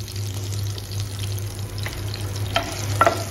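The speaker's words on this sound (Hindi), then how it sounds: "मैं इसमें डाल दूँगी अराउंड 2 तेज़पत्ता, 2 मोटी इलायची और 1 थोड़ा सा टुकड़ा दालचीनी का।" Bay leaves, black cardamom and a piece of cinnamon fry in about a tablespoon of hot oil for dum aloo, giving a soft steady sizzle with a few sharp spoon clinks near the end.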